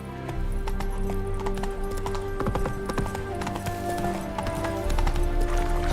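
A horse gallops in The Witcher 3, its rhythmic clip-clop hoofbeats loud and close, running over a sustained musical score with a brief neigh.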